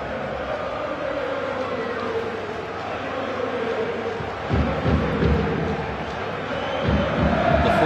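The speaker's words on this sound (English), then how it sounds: "those are Bolton fans who are trying to match the enthusiasm of their Greek counterparts" A Bolton stadium crowd at a UEFA Cup match against Aris Thessaloniki gives off a broad, steady roar of chanting and cheering. It swells in a couple of surges under commentary.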